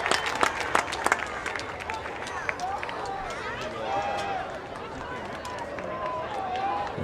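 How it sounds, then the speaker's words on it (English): Crowd applauding at a high school varsity football game, Port Huron versus Henry Ford II, a steady spread of clapping at moderate distance under the play-by-play announcer's voice. "Good hand from the crowd."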